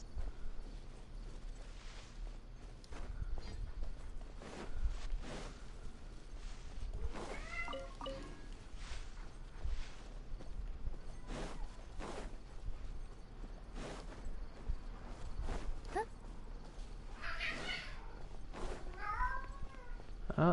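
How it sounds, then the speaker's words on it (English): A cat meows a few times in short, fairly faint bursts scattered over steady background noise, alongside game sounds and occasional clip-clop-like knocks. "Oh, talking cat, here we go."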